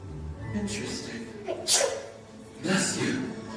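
A single sneeze bursts out clearly amid ongoing talk in a scene set by a fireplace, a sharp explosive burst followed shortly by a second noisy exhalation, close and fairly loud over low background voices.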